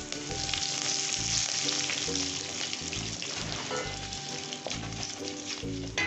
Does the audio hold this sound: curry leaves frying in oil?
yes